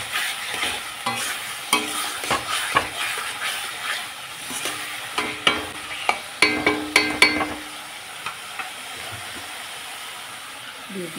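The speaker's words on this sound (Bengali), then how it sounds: "আলুগুলোকে আমি মশলার সাথে ভালোভাবে কষিয়ে নেব।" Potatoes cooking with spices in a pan, stirred by hand, make a series of irregular sharp spatula scrapes and knocks over a soft frying sizzle that crowd together in the middle and then thin out.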